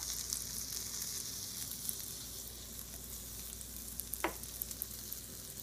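Fish sticks sizzle steadily in a hot frying pan, a continuous crackling hiss broken by a few small pops and one brief sharper scrape near the end, with no voices.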